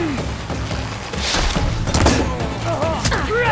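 Gunfire in Horizon Forbidden West, a dense fusillade of shots and thuds mixed with game sounds over about three and a half seconds, with a faint voice in places.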